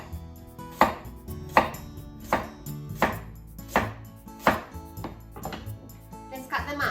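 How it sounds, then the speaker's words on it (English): A knife slices a carrot into thin pieces on a cutting board, giving a steady run of sharp, evenly spaced chops close up, about one every three quarters of a second. "Carrot, cut the top off. Make some thin slices."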